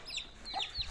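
Chicken clucking in a backyard coop where chicks are kept, several short clucks in quick succession over faint background noise, no talking.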